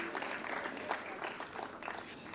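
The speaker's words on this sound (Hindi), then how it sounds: "आप सभी जोरदार तालियां बजाकर इस क्षणों की शोभा को और बढ़ाएं।" Audience applause at an official ceremony with a minister present, a soft, steady patter of many hands heard from a distance.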